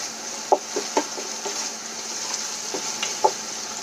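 Crushed garlic sizzles in hot oil with onions in a pan, a steady soft frying hiss broken by light stirring clicks and scrapes every second or so.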